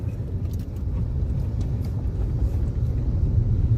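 Oncoming vehicle on a winding Arunachal Pradesh mountain road heard from inside a car, a steady low engine and road rumble that swells slightly as the traffic passes.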